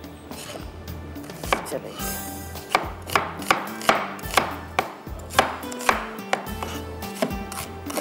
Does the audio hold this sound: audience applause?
no